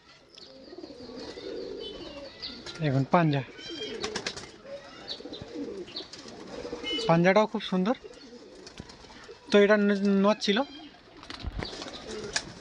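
Pigeons coo loudly at a pigeon sale, several rolling coo phrases coming close and clear between stretches of someone talking.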